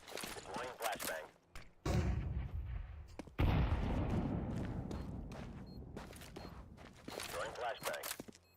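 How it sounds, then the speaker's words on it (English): A flashbang grenade goes off in a video game, two heavy booming bursts with a long rumbling tail, set among gunfire and shooting noise. A voice talks faintly in the background. "Deploying flashbang."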